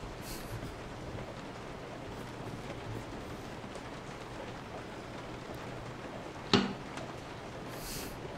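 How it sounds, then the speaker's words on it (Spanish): Rain falling in the Resident Evil 7 video game, a quiet, steady hiss of drops on surfaces throughout, broken once by a brief sharp crack near the end. "El sonido de la lluvia."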